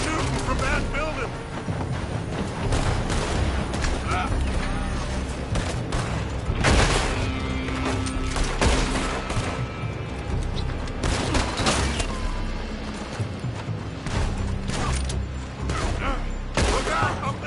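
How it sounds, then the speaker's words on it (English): Gunfire in Red Dead Redemption 2 during a Chapter VI shootout, with rapid shots and booming blasts cracking repeatedly over dense battle noise throughout, loud and close, mixed with shouting voices. "They're shooting from that building!"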